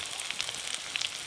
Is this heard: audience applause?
no